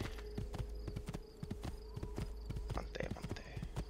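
Steady clip-clop of horse hooves in Assassin's Creed II as the horse rides out through the Tuscan countryside near San Gimignano, a regular rhythm of close hoofbeats over a low game soundtrack hum.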